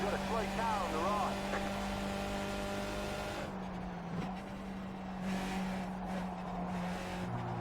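Skip Barber race cars lap Mosport in iRacing, a steady engine drone with brief tire squeals early on, then a lower hum as a voice talks over the racing sound.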